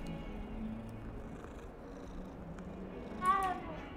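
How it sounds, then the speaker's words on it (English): A cat in the Hogwarts Legacy video game purrs with a soft, steady rumble, then lets out a single brief meow near the end, all quiet and close. "Oh, kitty."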